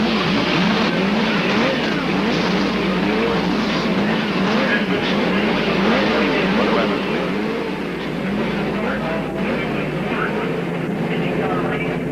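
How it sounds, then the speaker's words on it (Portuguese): IndyCar race car engines fire up at the 1992 New Hampshire race, a loud continuous roar of several motors under a commentator's voice speaking throughout. "Motores sendo acionados. Como é gostoso esse barulho de motor"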